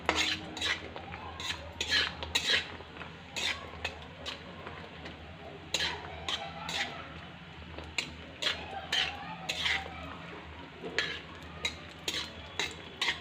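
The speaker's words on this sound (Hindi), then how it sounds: "तो इसे मीडियम फ्लेम पर हम फ्राई कर लेंगे।" Dry fruits for gond laddu fry in a pan over a medium flame. A utensil clinks and scrapes against the pan in irregular stirring strokes, close and fairly quiet, over a low background hum.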